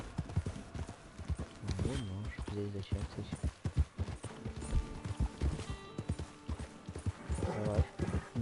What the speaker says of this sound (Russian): Кони.